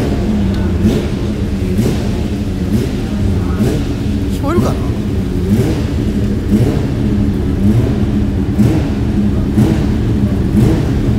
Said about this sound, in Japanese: 今エンジン温めたりとかねしてますね。